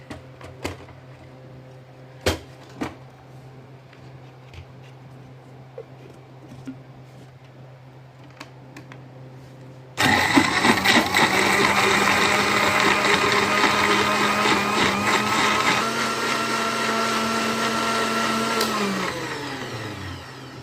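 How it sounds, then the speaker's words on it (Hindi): A kitchen blender whirs loudly as it blends orange and lemon slices for lemonade, kicking in abruptly midway after quieter room sounds with a few knocks, then running continuous and close to the end. "तो अब हम इसको करेंगे ब्लेंड।"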